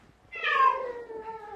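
A single cat meows once in a long, drawn-out call that rises and then trails off, heard close and clear with no voices over it.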